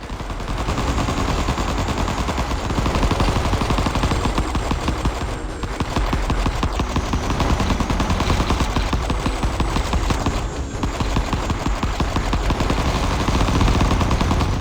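Video game gunfire in Vital Shell hammers out as continuous rapid machine-gun bursts for the whole stretch, loud and close, with only brief dips and no talking over it.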